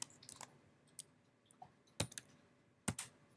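Scattered keystrokes on a computer keyboard, faint and irregular, with a few sharper clicks standing out in a quiet room.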